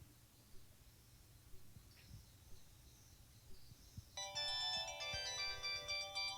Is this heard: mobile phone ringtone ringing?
yes